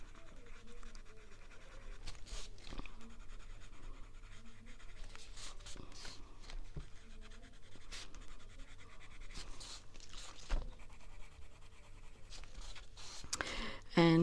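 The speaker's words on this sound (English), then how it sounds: "I'm just sort of scribbling over. I'm not being careful, just giving it a few autumn tones." Colored pencil scribbling in autumn tones across stamped card: a continuous close, fine scratchy rasp of quick strokes with small pauses, fairly quiet, and a brief knock near the end.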